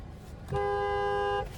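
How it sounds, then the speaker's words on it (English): A single 2025 Cadillac XT4 Sport horn blast, steady and clear for about a second, inside a quiet cabin. "There's the horn sound."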